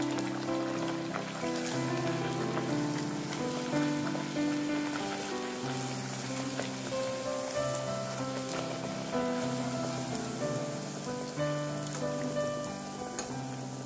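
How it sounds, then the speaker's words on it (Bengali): Puris frying in hot refined oil, a dense, continuous bubbling sizzle like rain on a surface, close and steady throughout, with a faint tonal hum running underneath. "পুরি আমি ভেজে নিচ্ছি"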